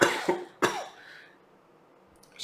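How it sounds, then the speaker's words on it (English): A man gives three quick, sharp coughs close to the microphone, the last trailing into a raspy throat-clearing rumble that fades into quiet, with no talking. "Let me clear my throat real fast"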